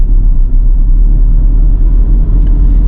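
A car rolls over a road hump on a Didsbury driving test route, then picks up speed, its engine and tyre rumble steady and close with a slight rise toward the end.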